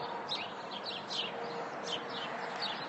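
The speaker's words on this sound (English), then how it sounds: "And there goes a bird." Birds chirp outdoors near a back porch on a chilly, overcast morning, giving faint, thin repeated tweets over a steady hiss of background ambience.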